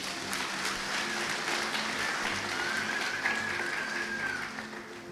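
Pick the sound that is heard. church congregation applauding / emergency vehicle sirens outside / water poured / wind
church congregation applauding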